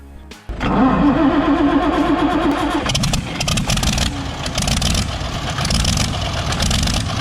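A decade-idle Magus Deutsitz air-cooled diesel V8 cranks and fires with a sudden loud start, then settles into a heavy, rough idle with uneven bursts and clatter, close by.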